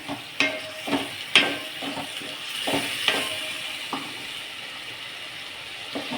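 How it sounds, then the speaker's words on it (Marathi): Boiled potatoes being stirred into frying masala in a pan for potato bhaji, with a soft steady sizzle broken by several sharp scraping and clattering stirs of the spoon. "शिजवलेला बटाटा टाकून छान मिक्स करूया"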